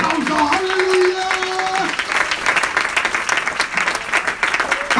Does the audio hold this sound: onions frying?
no